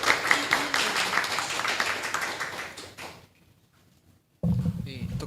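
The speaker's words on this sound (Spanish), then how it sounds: "el cual lo recibimos con un fuerte aplauso," Audience applause fills a hall at a national arbitration essay competition on public procurement: dense, steady clapping for about three seconds, then a sudden drop to near silence before a brief loud burst of sound at the end.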